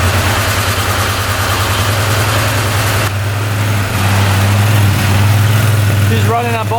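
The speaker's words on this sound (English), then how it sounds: "Let's try to fire it up, see if it runs on both cylinders here." A 2013 Arctic Cat UTV's two-cylinder engine, just repaired, fires up and settles into a loud, steady low idle that runs straight through the clip, close to the mic and alone with no talk over it.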